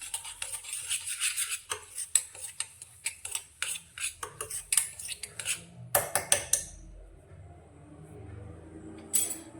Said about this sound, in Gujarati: હવે બંને વસ્તુને પહેલાં સારી રીતે મિક્સ કરી લઈશું